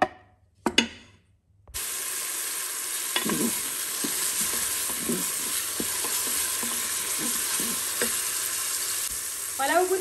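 Onion browning in a Cookeo multicooker sizzles and crackles steadily after a couple of sharp knocks at the start, a continuous close frying hiss with occasional stirring scrapes.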